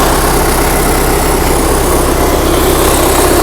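A 1990 MTZ 82 tractor engine idles loudly and close by, a steady, dense rumble that holds without change and with no talking.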